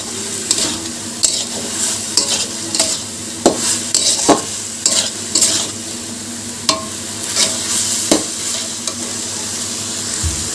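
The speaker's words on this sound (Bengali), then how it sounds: "এই যে মাছের তেলটা দিয়ে দিলাম। এবার নাড়াচাড়া করবো।" Ash gourd cooking in fish oil sizzles steadily in a pan while a spatula stirs it, with repeated scraping and clinking strokes against the metal at an uneven rhythm, close and fairly loud throughout.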